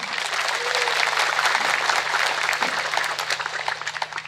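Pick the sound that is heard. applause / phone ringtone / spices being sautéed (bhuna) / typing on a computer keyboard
applause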